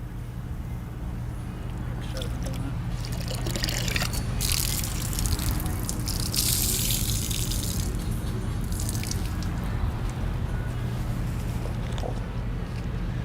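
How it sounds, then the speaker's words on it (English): A wash mitt swishes and scrubs against a dirt trap inside a water bucket during a car wash, giving continuous close sloshing and rubbing with dripping water and faint background hum. "go over to your second bucket and then run it down against the dirt trap, and this is going to help take off any of the contamination off your wash mitt"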